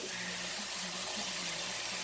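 Liquid pouring into a pot of beans, a soft steady trickling and gushing stream lasting the whole moment, faint and close, with no talking.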